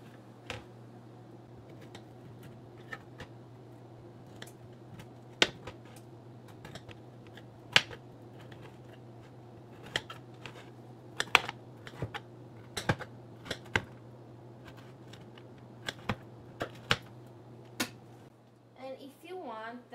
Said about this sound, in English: I'm going to slice it up diagonally, about 1 inch wide